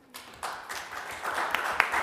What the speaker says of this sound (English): So give them a clap of hands, please.